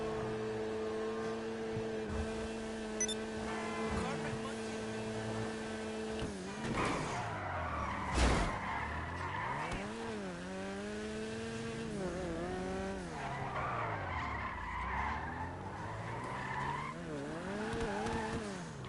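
Car in a video game driving fast at high speed, long sustained tire squeals and skidding that bend up and down in pitch under a steady roaring engine, loud and continuous throughout.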